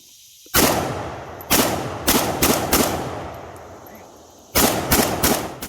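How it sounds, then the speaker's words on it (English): An AK63D rifle built from a parts kit fires outdoors in loud, sharp reports: a single shot, then quick bursts of two to four rounds, each echoing briefly before the next. "Well, I'll throw in some footage of it shooting right here."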